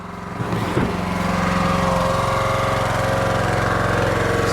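A small gas engine on a log splitter idles steadily at low revs while maple firewood is split, with a brief knock near the start, then a constant, fairly loud, even drone.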